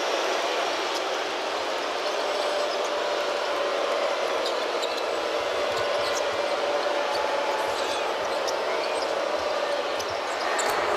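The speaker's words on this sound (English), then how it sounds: "And listen to this crowd." A basketball arena crowd roars steadily during a Texas Tech versus Cincinnati game, a dense, loud, sustained wash of cheering with scattered shouts and whistles and no break for the full length.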